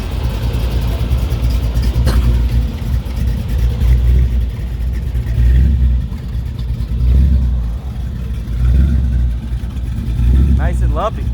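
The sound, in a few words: 1932 Ford hot rod 350 engine with Weiand blower, idling lumpy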